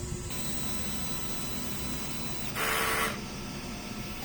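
A DTF printer's print head runs a cleaning cycle, giving a steady mechanical hum with a louder burst of hissing, pumping noise about halfway through before it settles back.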